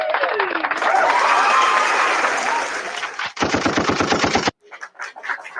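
Audience applause at a live discussion show: a dense, steady wash of clapping builds, breaks into a brief burst of fast rhythmic claps, then thins to scattered claps with voices.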